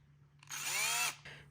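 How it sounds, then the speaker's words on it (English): An IKEA power drill bores a hole through a plastic cup in one short, close, high whine of under a second, then stops. "I take my drill and I start drilling"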